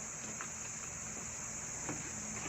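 Crickets packed in a box give off a faint, steady high chirring that runs unbroken throughout, with no talking.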